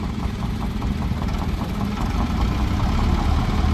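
A vintage tractor engine idles steadily at a steam show, its close, loud, even low chugging and ticking continuing without pause and with no talk over it.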